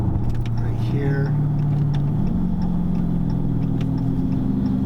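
A heavy Dodge Charger 392 on Michelin Pilot Sport A/S 3+ tires drives with a steady engine hum that rises in pitch as it accelerates, heard from inside the car under someone talking.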